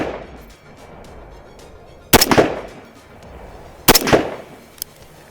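Two sharp, loud rifle shots spaced about two seconds apart at an outdoor range, each with a brief echoing tail, over faint background hiss, followed by a small metallic click.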